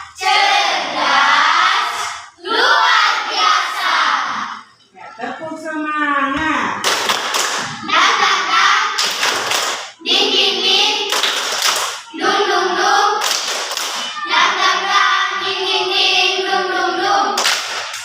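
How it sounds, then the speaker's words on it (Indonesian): Schoolchildren in a classroom perform a rhythmic spirit clap, loud bursts of patterned claps alternating with chanted group voices, close and energetic, pausing briefly midway before resuming. "Ya, tepuk semangat."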